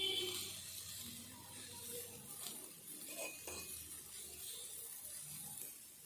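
Chopped pieces of vegetables, likely amla (Indian gooseberry), fry in a pan with a steady broadband sizzle, with occasional utensil clinks and scraping from stirring.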